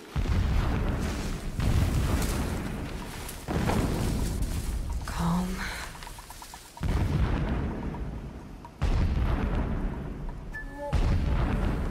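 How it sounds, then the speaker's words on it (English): Enemies fire on the player in Horizon Zero Dawn, a barrage of heavy, booming shots and blasts arriving in loud bursts every couple of seconds over a dense rumbling din, with no talking. "Why are they shooting at me?"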